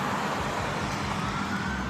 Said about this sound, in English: hang on, there is a siren coming